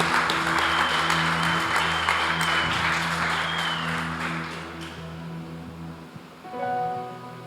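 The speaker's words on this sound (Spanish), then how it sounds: "Regálale un fuerte aplauso a nuestro Dios." A church congregation applauds during worship, a steady wash of clapping beneath sustained music that fades out, after which soft instrumental notes continue alone.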